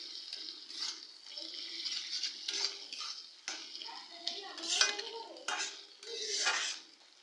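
Ginger garlic paste stirred in a pan for chicken and potato curry, with close clinks and scrapes of a spoon against metal and a faint frying hiss between them, no voices.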